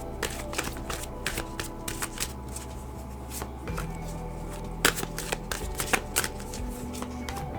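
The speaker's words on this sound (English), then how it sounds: "Let's get some oracle cards for y'all." A deck of oracle cards is shuffled by hand, with quick bursts of riffling and papery slaps repeating close by, loud against a quiet background.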